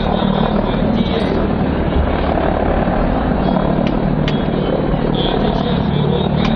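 A helicopter flies a display at the MAKS 2017 air show, its rotor and engine making a loud, steady roar that stays close and unbroken throughout, with no talk over it.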